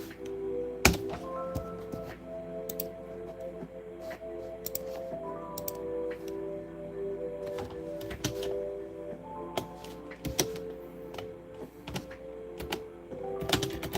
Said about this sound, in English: the sound of the keyboard